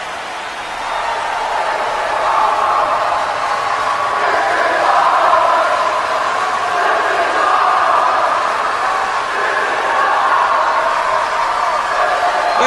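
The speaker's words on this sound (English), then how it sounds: "Crowd is absolutely loving this match." Sustained roar of a wrestling crowd cheering during a chaotic six-man ladder match at a CSW No Mercy pay-per-view event, a steady loud wash of voices rising and swelling throughout with no clear talk on top.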